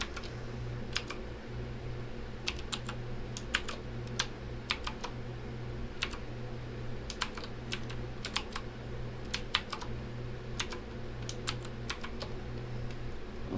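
A password typed manually on a computer keyboard during a Windows 11 install, a steady run of crisp key clicks in irregular bursts over a low background hum.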